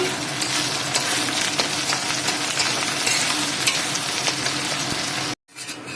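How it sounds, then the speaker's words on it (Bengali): Chopped onions hitting hot oil with two kilos of meat in a pan, a loud steady close sizzle and fry with faint stirring, cutting off sharply near the end. "তেল গরম হয়ে গেছে আমি পেঁয়াজ কাটা দিয়ে দিচ্ছি"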